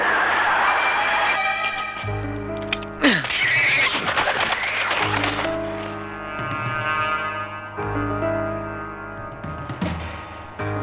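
Cartoon eagles let out long, wavering calls and cries over orchestral music, with a sharp swooping screech early on and sustained tones throughout, loud and close.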